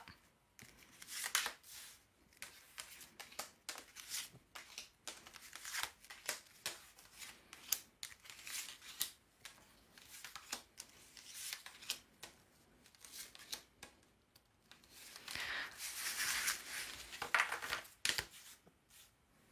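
Tarot cards being shuffled and dealt out into a thirteen-card spread, with soft repeated riffles, slides and taps close by over nearly twenty seconds, no talking.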